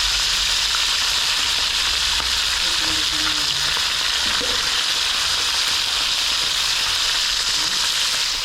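Vegetables and tomato fry in a hot pan with a constant loud sizzle and crackle, plus faint stirring clicks underneath, continuous throughout.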